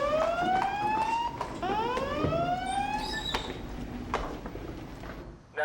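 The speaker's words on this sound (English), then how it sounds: "Suddenly, the alarm sounds and they're off." A boat crew alarm rings out with rising, sweeping tones that repeat in quick succession, loud and close over a busy background.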